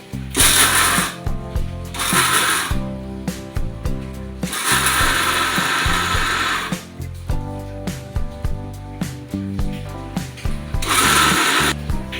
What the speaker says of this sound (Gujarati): હવે આપણે આ મિક્સરમાં ક્રશ કરી નાખીએ